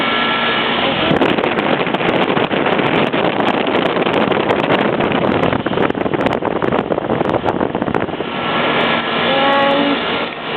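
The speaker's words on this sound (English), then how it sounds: "There's an exhaust fan." An air conditioning exhaust fan at a golf center roars steadily and loudly nearby for about ten seconds, a dense rushing drone with wind buffeting across the microphone and faint tonal hums near the end.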